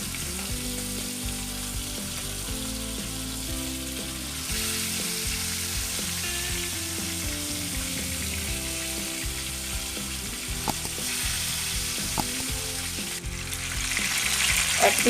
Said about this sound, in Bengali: এবার এক এক করে মাছগুলো ছেড়ে দিচ্ছি।